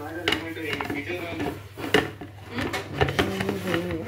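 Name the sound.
washing dishes and pots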